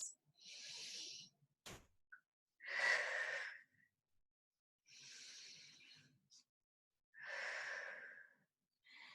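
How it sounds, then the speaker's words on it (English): Deep, slow breaths during a stretching class on folds and twists, with four long airy inhales and exhales separated by pauses, close and soft, with no talking. "Take 2 deep breaths."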